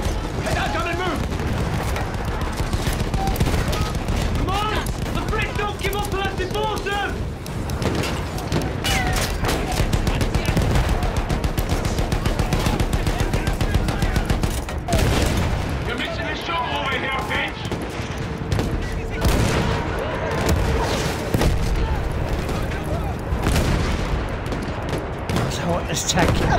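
Gunfire from German guns in a war video game, with dense continuous volleys of shots and booms layered over game music and shouted voices throughout.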